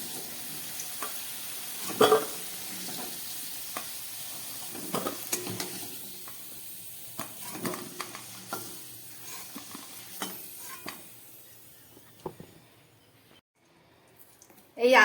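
Fried potatoes and white cumin seeds sizzling in the hot oil, a soft crackle with occasional stirring clatters, close by and fairly quiet. A voice talks over part of it, and the sound fades toward the end.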